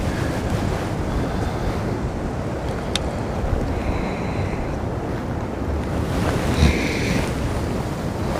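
Wind gusts outdoors on the water while fishing, a loud steady rushing roar buffeting the microphone with a few faint knocks, no voices.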